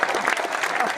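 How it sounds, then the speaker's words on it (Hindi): A crowd applauds at a Hindi poetry gathering (kavi sammelan), loud and close, with a burst of many hands clapping together that fills the whole second. "असली तालियां अब चाहिए"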